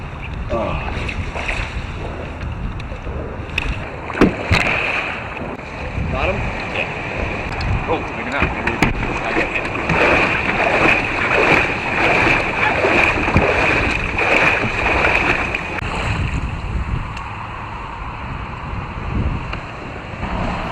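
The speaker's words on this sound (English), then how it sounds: "Here I am making a tight right turn by kicking back with my right foot and paddling forward on the left." A fishing kayak on the Chesapeake Bay turns with paddle strokes, giving irregular splashes and swishes of water against strong wind buffeting on the microphone, with a person talking at points.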